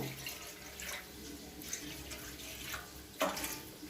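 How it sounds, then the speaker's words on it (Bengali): A small amount of water poured onto spiced duck meat in a home kitchen, a soft running trickle with faint splashes throughout and a brief louder splash near the end, with no talking. "দেখো সামান্য জল দিচ্ছি, বেশি না, অল্প জল দেব।"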